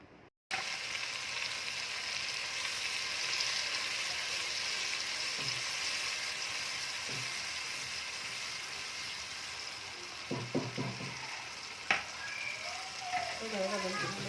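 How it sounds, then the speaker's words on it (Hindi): A steady, fairly loud sizzle of spice and yogurt masala frying in hot oil, running throughout with a few soft stirring clinks near the end, and no one talking. "अब जो मसाले दही के अंदर मैंने मिक्स कर लिए थे, वो इसके अंदर शामिल कर देंगे और इसको अच्छी तरह से भून लेंगे।"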